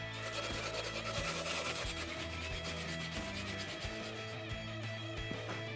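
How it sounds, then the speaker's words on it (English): Sandpaper rubbing steadily over a handmade wooden butterfly knife handle to round it off, a continuous close scratchy abrasion with rhythmic strokes and no talking. "round off the handle using sandpaper"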